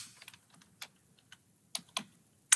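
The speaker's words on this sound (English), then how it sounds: "I'm actually typing" Computer keyboard typing during a city council meeting, a sparse run of quiet, close key taps at an irregular pace, with a couple of sharper clicks near the end and no talking.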